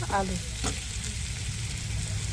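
Spice paste and fried potatoes are stirred in a pan, giving a close, steady sizzle with a few short utensil scrapes and no talk.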